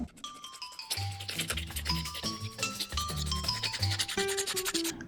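A resin casting is sanded by hand in short scratchy rubbing strokes, close and fairly quiet, with faint tinkling tones mixed in.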